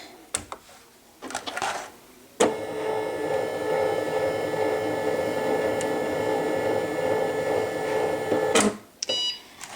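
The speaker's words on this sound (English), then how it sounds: "So let's take this over to my Cricut. And let's turn it on." A Cricut cutting machine switches on with a few clicks and short whirs, then runs with a steady mechanical hum and buzz for several seconds before stopping with more clicks.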